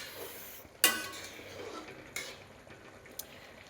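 A metal spatula strikes a pan as chili powder is stirred into greens cooking on the stove: three sharp, separate clinks over a quiet background.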